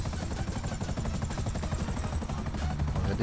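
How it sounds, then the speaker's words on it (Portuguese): A close, loud helicopter rotor in the video game GTA V beats rapidly and evenly, its engine whine droning underneath for the whole short stretch. "Vai estar pousando aqui rapidinho aqui o helicóptero aqui."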